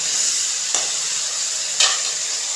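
Okra and potatoes frying in a pan with turmeric and salt give a steady close hiss, with two brief louder bursts as the vegetables are stirred.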